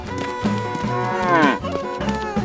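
A herd of cows moos together in a farmyard, several overlapping drawn-out calls rising and falling in pitch, loud and close with no talking.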